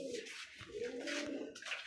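Pigeons, including a bright red one offered by a breeder selling birds, cooing in soft, low, continuous murmurs close by, with no voices.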